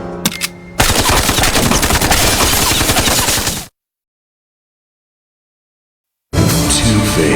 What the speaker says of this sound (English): So he gets to have a machine gun hidden in one.